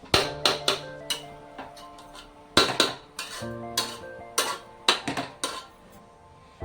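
A metal lid goes onto a pot of carrot halwa cooking on a gas stove, with a series of sharp, close metallic clanks and rattles, some ringing briefly, and no talk.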